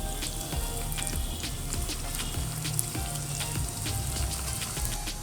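Spinach and leftover-rice vadas fry in hot oil with a steady, continuous sizzle and crackle, close and fairly loud, with no talking.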